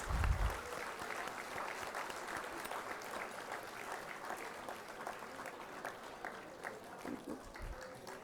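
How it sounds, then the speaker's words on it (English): Audience applause at a commencement ceremony, a sustained, fairly distant wash of clapping from a large crowd continuing steadily, with a couple of low thumps near the start and end. "Let us give them our warmest applause."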